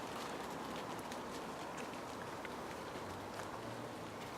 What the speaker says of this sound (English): You can probably hear the rain pattering on the leaves